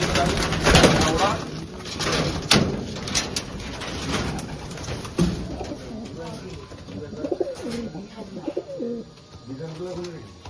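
Competition pigeons coo in a loft during a pigeon-racing contest in Krishnanagar: repeated soft, throaty coos, with more of them toward the end, mixed with bustle, clatter and people talking nearby.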